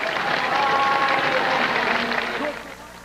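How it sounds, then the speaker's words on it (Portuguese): A crowd lining the streets near a cemetery in Bahia applauds as a coffin arrives at a funeral in the evening. The sustained clapping and murmuring swell, then fade toward the end. "O povo aplaude."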